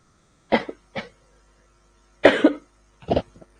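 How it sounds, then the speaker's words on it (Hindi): A woman coughs four times in short separate bursts, close and moderately loud, in an otherwise quiet room. "आज तो शायद मुझे बहुत ज्यादा परेशान कर रही है खांसी।"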